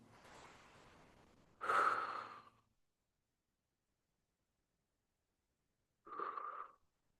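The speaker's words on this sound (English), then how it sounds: "In through the nose, out through the mouth." Slow, deep breaths during a somatic movement class: a soft inhale, then a stronger audible exhale, a silent pause, and another shorter breath, all close and with no talking.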